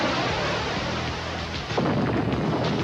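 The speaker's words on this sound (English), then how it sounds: "Missile launch right there." In Operation Desert Storm news footage from 1991, a missile launch makes a loud, sustained rumbling roar like distant thunder. The roar swells into a broader, rushing blast partway through, with no voices heard.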